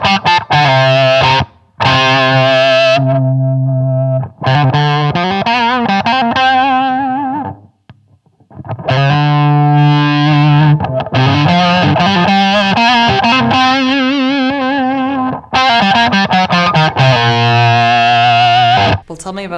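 Electric guitar played through a mid boost pedal with the boost switched out of the circuit, giving loud distorted riffs and held notes with a few short pauses between phrases.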